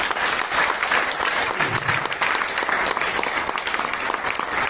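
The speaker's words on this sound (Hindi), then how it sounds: "जोरदार तालियां" Loud, enthusiastic applause from an audience at a motivational seminar, many hands clapping densely and close, sustained without a break.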